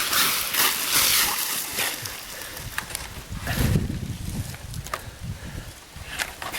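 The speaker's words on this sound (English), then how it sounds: "there he goes swimming down the creek" A small young raccoon swims off down a creek, with steady splashing and rippling water close by and gusts of wind on an open outdoor mic, no talk.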